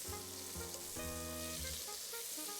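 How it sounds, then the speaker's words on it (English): Steady loud sizzling of butter melting in a hot pot for mac and cheese, a dense hiss with faint tonal hum underneath, no talking. "Listen to that sizzle."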